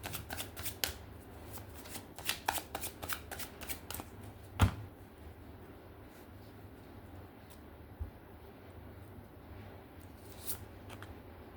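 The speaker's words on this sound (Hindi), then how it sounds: "एक लास्ट शफल" Tarot cards riffled and shuffled by hand in repeated quick bursts of crisp flutters, with one sharper snap near the middle, then quieter handling with no talking.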